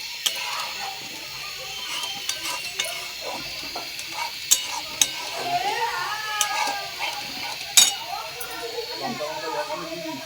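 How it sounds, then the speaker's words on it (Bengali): Spice mixture being sautéed in a pan before potatoes and peas go in, with a steady sizzle, scraping stir strokes and occasional clinks of a utensil against the pan, close and moderately loud. "এরপর আমি এবার কষানোটা আর একটু হবে, তারপর আলুটা দেব, আলু আর মটরটা।"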